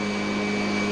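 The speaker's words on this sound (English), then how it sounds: "One other thing I can point out with this style of a vacuum cleaner is that you're not sucking stuff up" Upright vacuum cleaner running on carpet with a bag collecting debris: a steady, close, loud motor drone with a constant whine that stays even throughout, and no voices.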